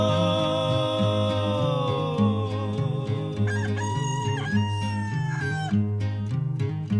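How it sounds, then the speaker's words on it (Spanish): A rooster crows loudly in a long, drawn-out call over a steady musical background, with no talking. "y el gallo cantó en alta voz"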